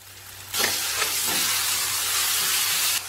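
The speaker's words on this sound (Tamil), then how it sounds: "இஞ்சி பூண்டு உழுது சேர்த்து வதக்கணும்." Ginger garlic paste for fish biryani hits a hot pan with a sudden loud sizzle that holds steady for a couple of seconds, then cuts off abruptly, with no talking.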